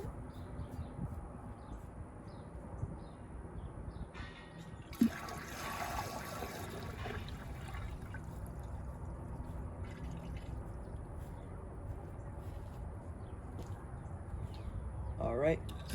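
A Rheem Claymore toilet tank refills after the water supply is turned back on, a steady low rush and trickle of water running continuously, with a brief louder splash partway through.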